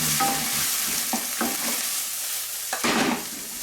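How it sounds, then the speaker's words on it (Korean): Vegetables stir-fried with garlic and soy sauce in a pan for a spicy mapo tofu rice bowl give off a steady close sizzle, broken by a few short scrapes and tosses of the spatula. "야채를 다 넣으시면 돼요. 다 넣으셔서 이렇게, 이 볶아주시면 됩니다."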